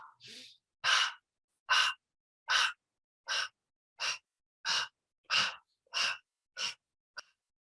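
A person breathes in a guided stress-relief exercise, about ten short, evenly spaced breathy exhales roughly every three-quarters of a second, close and clear against silence.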